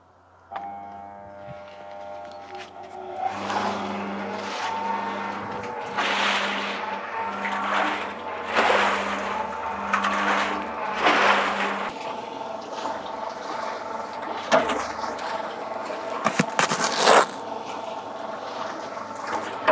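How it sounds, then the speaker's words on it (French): Temperamental electric cement mixer starting up and running, a low steady motor hum with rattling, clanking drum noise building and fluctuating, close by, with a few sharp knocks toward the end. "c'est une bétonnière électrique, Choupette de son petit nom, qui est assez capricieuse au démarrage, donc on va essayer de la lancer"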